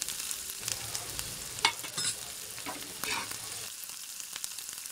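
A paste of green chili, coriander, ginger and garlic sizzles and crackles steadily on a hot griddle, with a few louder spatters and stirring scrapes, close and continuous with no talk.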